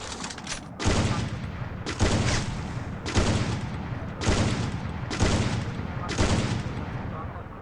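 Sniper fire in the mobile shooting game Free Fire, six or seven heavy, booming shots spaced about a second apart, loud and close, with a faint voice underneath.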